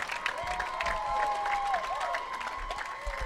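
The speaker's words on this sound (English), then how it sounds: "How about one more big round of applause for all of our finalists here today?" Steady applause from a crowd at the Indiana high school bowling state finals, continuous clapping with a murmur of cheering, moderately loud and sustained throughout.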